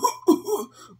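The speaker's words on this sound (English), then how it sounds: "That cough doesn't sound very good." A sick coworker in a comedy office skit gives a short, throaty cough in a couple of rough bursts, close and loud, then a final quick hack.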